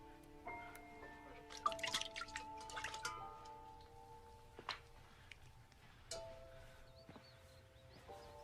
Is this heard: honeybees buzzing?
no